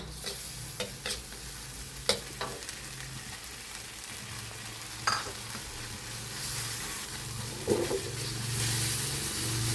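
Minced pork stir-frying with pounded curry paste in a pan for stink bean and shrimp paste stir-fry, a steady sizzle broken by sharp spatula scrapes and knocks, close and alone.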